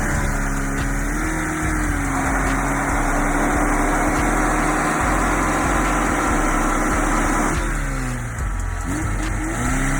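A VAZ 2101 with a 1.3 engine runs close by, its steady, droning exhaust rising and falling with a few revs and easing briefly near the end, with no talk.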